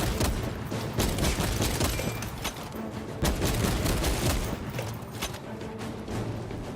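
Dense, continuous gunfire aimed at the player in the video game Space Marine 2, a loud relentless barrage of overlapping shots and impacts with no pauses.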